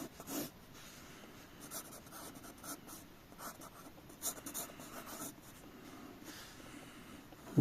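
A marker pen draws a cartoon car on paper with quiet, close squeaky strokes and rubbing scratches in irregular bursts and pauses, with no talking.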